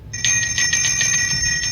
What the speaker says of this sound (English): Don't forget the notification bell